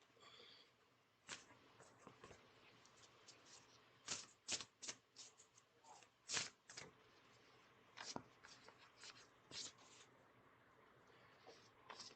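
A Sacred Forest Oracle card deck by Denise Lynn being shuffled by hand, soft riffling and papery snaps in irregular bursts, close but quiet, with no voices.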